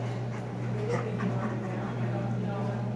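Several puppies in a house yip, bark and whimper up close amid steady busy noise, while a person talks over them.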